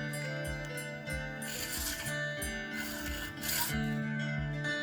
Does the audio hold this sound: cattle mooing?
no